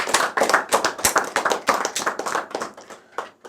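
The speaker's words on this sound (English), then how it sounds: "Please, a round of applause for yourselves" Housemates clap for themselves in a quick, uneven burst of a few nearby pairs of hands, sharp individual claps tumbling together and thinning out toward the end.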